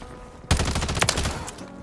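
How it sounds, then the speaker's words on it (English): Burst of rapid automatic gunfire in Call of Duty: Modern Warfare III, a dense sustained volley of shots starting abruptly and continuing loud and close for over a second. "did you not hear me shoot your teammate, bro?"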